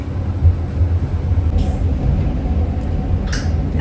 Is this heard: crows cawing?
no